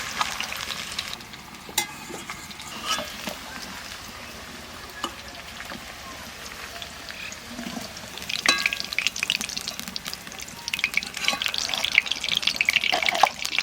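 Close sizzling and bubbling of young jackfruit frying in oil, with stirring scrapes and occasional clinks, the frying growing louder and busier toward the end.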